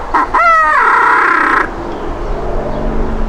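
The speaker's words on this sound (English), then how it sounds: "That is by far one of the best owl hooters I've heard." A custom-made owl hooter game call blown loudly for about a second and a half, a quick rising series of cackling, hooting notes that settles into a held tone and then cuts off into quiet room noise.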